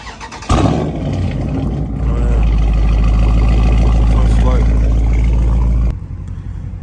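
Dodge Charger Scat Pack engine warm start: a sharp starter crank and loud catch, then a deep, rumbling idle that swells and holds steady before dropping suddenly near the end, with someone talking over it.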